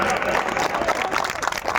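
Audience at an All India Mushaira poetry gathering bursts into sustained applause and crowd noise, a dense continuous wash of clapping and cheering filling the whole stretch.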